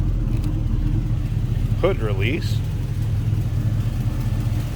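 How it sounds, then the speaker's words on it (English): A 1940 Ford Deluxe Coupe street rod idles with a mild cam and a modest exhaust, giving a steady low rumble throughout. Someone briefly speaks over it. "I want to let you hear it run first. It's a nice sounding car. A little bit of a cam to it."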